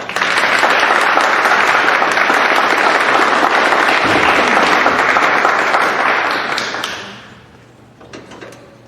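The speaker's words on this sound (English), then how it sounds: "let's give another round of applause for Cassandra" Audience at a youth substance use and mental health town hall bursts into sustained applause, loud and dense for about seven seconds before tapering off, with a few scattered claps at the end.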